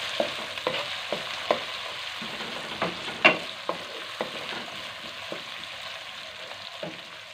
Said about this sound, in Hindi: तो इसको भी हम अच्छी तरह से भून लेंगे।